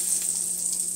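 Salted butter sizzles steadily in a new wok in a home kitchen, a continuous bright hiss with no talk over it.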